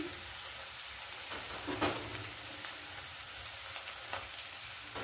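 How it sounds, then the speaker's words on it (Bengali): Spinach sautéing in a pan for a vegetarian bean dish gives a faint, steady sizzle, with a few soft stirring scrapes and brief bursts of hiss. "আর একটু কষে নেবো। পালং শাকটা কষে নিয়েছি।"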